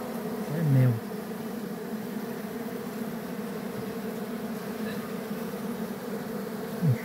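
A bee swarm hums at a rock cavity packed with honeycomb, a dense, steady buzz close by with a couple of louder passes as individual bees fly near.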